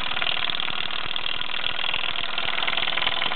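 A 1948 Mamod SE1 brass-wheeled steam engine with a hot-stamped brass frame runs steadily while driving a homemade line shaft, giving a dense, continuous chuffing and mechanical rattle close up.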